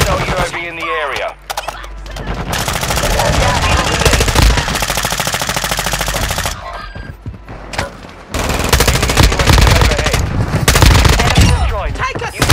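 Rapid automatic gunfire and bursts of shooting from Call of Duty MW3 Warzone, loud and nearly continuous with brief pauses, overlaid by game radio callouts and voices.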